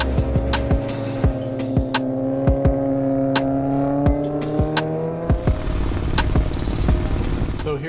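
Motorcycle engine and exhaust recorded close to the muffler while riding, a loud continuous drone with shifting pitch as the engine revs rise and fall, punctuated by sharp clicks and knocks.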